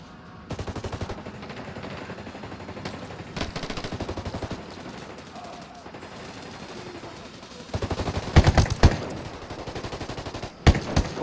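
Automatic weapon fire in Ghost Recon: Wildlands: scattered bursts and a sustained loud volley near the end, sharp cracks standing out over continuous game ambience.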